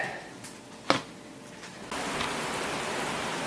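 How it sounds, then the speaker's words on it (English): Rain falling on a roof, a steady broadband hiss that gets noticeably louder and denser partway through, with a brief sharp knock near the start and no talking. "It's raining good."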